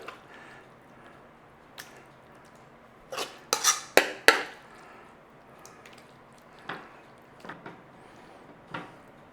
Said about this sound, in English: Take a dish. We are putting our chili in there.